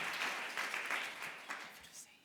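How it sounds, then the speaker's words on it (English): Round of applause at a 2019 conference session wrap-up, faint and distant clapping with scattered bursts over a couple of seconds. "before the well-deserved round of applause"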